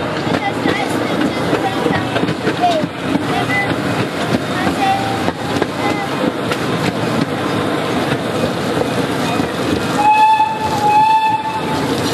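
Amusement park train ride at Lake Winnepesaukah rumbling along steadily, with a whistle sounding near the end, under faint background voices.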